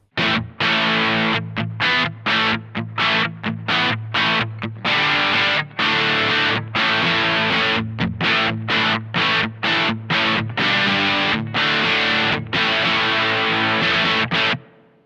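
Distorted electric guitar through a Supro Drive amp with reverb, played in choppy strummed bursts with short gaps and a reverb tail washing over each stop.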